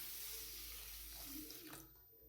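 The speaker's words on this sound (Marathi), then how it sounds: "यामध्ये पाणी घाला." Water pours into a pot of ration rice for washing, a soft steady splashing stream, faint and brief, trailing off near the end.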